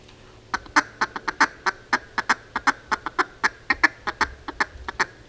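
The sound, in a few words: duck feeding chatter imitated, machine-gun style duck calling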